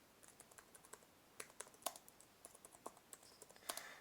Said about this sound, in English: So let me type in the label.